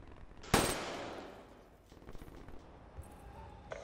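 Gunfire in a Call of Duty match: one sharp, loud burst cracks early and fades out, followed by fainter scattered shots and clicks in the distance.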